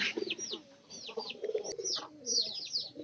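Domestic native pigeons kept in a loft, soft low cooing mixed with repeated quick chirping calls, close and fairly faint, with no talk.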